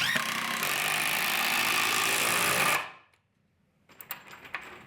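Bosch 12V cordless drill runs flat out at a steady, loud whine for about three seconds, then spins down and stops, followed by quiet handling clicks and knocks.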